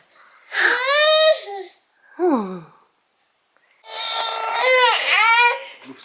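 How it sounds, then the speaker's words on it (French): A baby cries loudly at home in wailing bursts, with a short whimper between them, a brief silent pause, and then a long, strained cry. "Je montre à tout le monde comment tu pleures."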